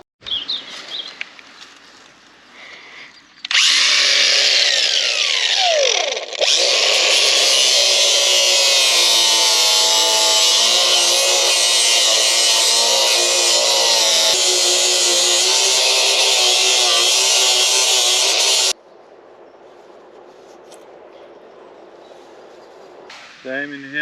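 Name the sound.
power tool grinding damaged fiberglass on sailing boat hull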